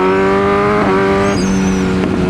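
A BMW S1000R motorcycle engine cruising in fourth gear with a quick shifter, a loud close steady drone that steps through a quick shift partway through with no speech.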